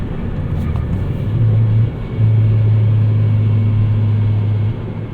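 A turbocharged 2008 Chevrolet Cobalt SS with a straight-pipe exhaust, heard from inside the car on a drive, gives a loud, steady low rumble that swells into a sustained droning note partway through.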